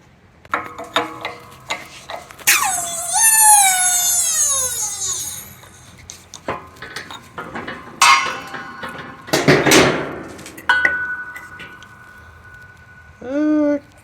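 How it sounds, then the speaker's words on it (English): A shop press forces a socket down onto a bearing on a 1967 Triumph T100C desert sled, giving hard metallic clanks and squealing, creaking scrapes in a few separate bursts, close by. "So I've got it on my press here, pushing a socket down."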